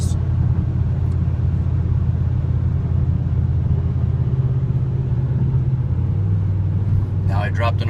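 A car cruising out of overdrive at about 2000 RPM on a rural road, a steady loud engine rumble and road drone throughout, with someone speaking over it.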